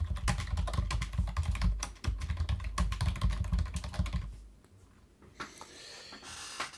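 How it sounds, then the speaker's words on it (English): Typing on a loud computer keyboard: rapid, close, irregular key clacks in dense bursts that stop abruptly near the end, leaving a quieter faint background. "hopefully my keyboard is fairly loud"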